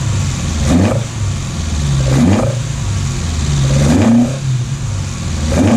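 A Datsun 1200 ute engine fitted with dual Weber DCOE carburettors revs in four sharp blips, each rising and falling back to a lumpy, gurgling idle, loud and close with no talking.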